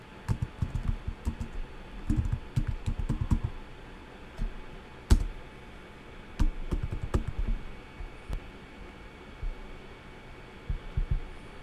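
Someone types text on a computer keyboard in short bursts of quick key clicks with pauses between them, close and fairly quiet over a low background hum.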